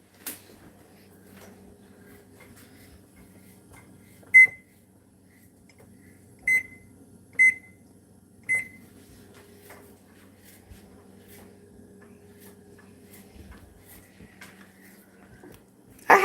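A kitchen timer is set for baking biscuits, giving four short, sharp electronic beeps spaced a second or two apart in a quiet kitchen, with faint handling clicks between.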